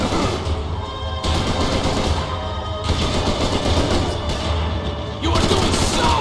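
Sustained gunfire and bursts of shots in the video game Max Payne 3, loud and continuous with dense crackling, changing intensity in sections, no talking.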